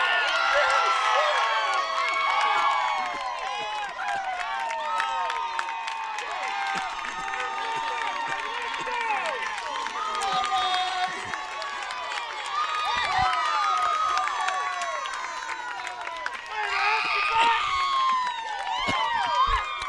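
A crowd cheering and shouting at a softball divisional tournament after a home run, with loud sustained yells, whoops and clapping, children's voices among them, swelling again near the end.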